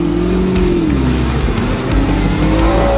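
A race car lapping on a test day at Winton, its engine holding a loud, steady drone with slowly shifting pitch across the whole stretch, with no talk.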